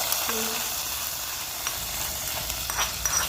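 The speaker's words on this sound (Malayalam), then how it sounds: "ബ്രൗൺ കളറായിട്ടുള്ള താളിച്ച് കൊടുക്കാം" Chillies and onion fry as a tempering for sambar in hot oil, with a steady, close sizzle and faint crackles and pops throughout.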